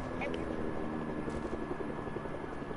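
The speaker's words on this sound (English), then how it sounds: "A helicopter's on us." A helicopter in a PS4 online shooter gives off a steady, loud whirring drone with a constant rotor hum that fills the game soundscape.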